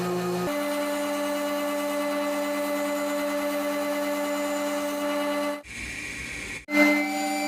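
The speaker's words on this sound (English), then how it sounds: "I'm gluing it into 1/4 inch MDF, which I'm then using on my bandsaw to trace the pattern" Continuous steady whine and hum of a running bandsaw cutting a 1/4 inch MDF pattern piece, close and even, with a short drop in the sound before it resumes for the last second.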